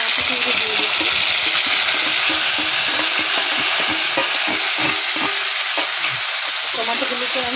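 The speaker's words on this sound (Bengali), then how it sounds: "টমেটোগুলোকে আমি ভালো করে ভেজে নেব।" Tomatoes fry in a pan after ginger, sizzling loudly and continuously up close while a spoon stirs them with soft, irregular scraping taps throughout.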